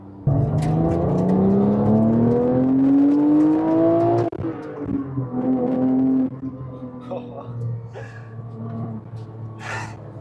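A Porsche 997 GT3 engine climbs hard through the revs while driving, drops off, then climbs again in a loud, sustained howl before easing back.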